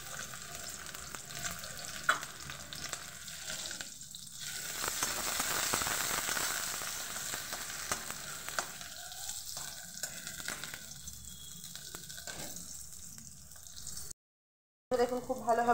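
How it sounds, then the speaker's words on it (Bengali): Chopped onions hit hot oil with a steady, close sizzle and crackle, stirring scrapes breaking through in the second half before a brief dropout near the end. "তেল গরম হতে আমি দিয়ে দিচ্ছি পেঁয়াজ কুচি"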